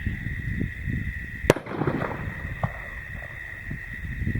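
An explosive shotgun shell fires outdoors as one sharp, loud blast, with a steady high hum from insects or wind in the background and a fainter pop following about a second later.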